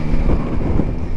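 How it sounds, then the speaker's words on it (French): Strong wind near a lighthouse in Brittany buffets the microphone in a steady, low roaring rumble that fills the whole moment, loud and close, with no voices. "Il fait beaucoup trop de vent."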